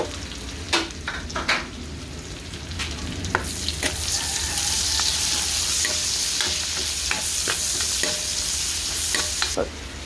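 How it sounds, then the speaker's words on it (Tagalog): Onions sizzle steadily in hot frying oil left from frying pork hock, with a metal spoon repeatedly scraping and clinking against the pan as it stirs, close and continuous. "Nilagay na natin yung sibuyas."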